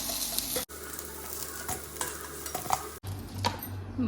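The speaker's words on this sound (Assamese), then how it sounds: "মাছখিনি ভালদৰে ফ্ৰাই কৰি এতিয়া উঠাই লৈছোঁ।" Pieces of bahu fish frying in oil in a kerahi, a close, continuous sizzle mixed with scraping stirs as they are lifted out, broken by two abrupt cuts.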